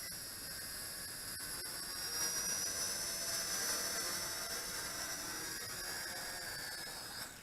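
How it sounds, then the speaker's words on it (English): Kiadeng K80 quadcopter drone motors during automatic landing, a steady high-pitched whine with harmonic tones holding close and loud throughout, easing slightly at the end as it settles. "I'll go ahead and do the automatic landing."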